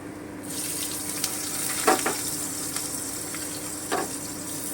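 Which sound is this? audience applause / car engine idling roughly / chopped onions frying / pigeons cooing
chopped onions frying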